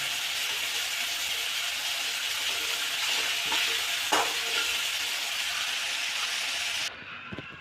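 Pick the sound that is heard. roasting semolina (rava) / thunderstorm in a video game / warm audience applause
roasting semolina (rava)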